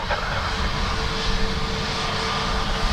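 An Aer Lingus A320neo jet runs at Dublin Airport, its engines giving a steady, broad roar that fills the scene at moderate distance, with no talk over it.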